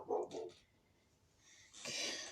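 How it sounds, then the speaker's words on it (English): A dog lets out a couple of short, muffled barks close by, followed by a quiet pause and then a breathy rush of noise. "I'm sorry for my dog barking."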